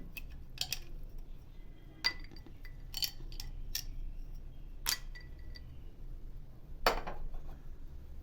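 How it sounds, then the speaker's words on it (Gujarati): Ice cubes dropped into a glass of green grape juice give several sharp, separate clinks against the glass, spaced a second or so apart over a quiet room background. "હવે તેમાં બરફના ટુકડા એડ કરીએ."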